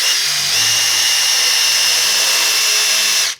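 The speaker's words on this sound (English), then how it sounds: "Make your drill in reverse." A power drill running in reverse whines steadily and loudly, grinding and burning into wood without a break, then cuts off abruptly at the end.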